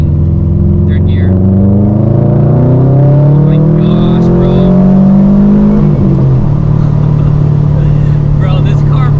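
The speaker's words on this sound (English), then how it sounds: "here goes wide open throttle pull" Subaru WRX STI making a wide open throttle pull in 3rd gear from just over 2,000 rpm, a loud, deep engine drone rising steadily in pitch from inside the cabin, with brief excited talk over it.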